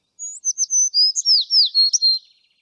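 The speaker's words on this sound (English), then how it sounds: "It's a sparrow chirping nearby." A sparrow chirps nearby in a quick series of about ten bright, clear tweets. The sound is close and stands alone, with no background noise.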